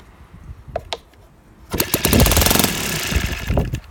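O.S. FT-160 Gemini twin model engine converted to gas, with a Perry pump regulator, catching after a few hand-flip attempts and firing into a loud, close, rapid chattering run that continues to the end.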